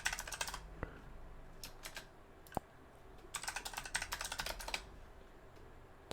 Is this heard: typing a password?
yes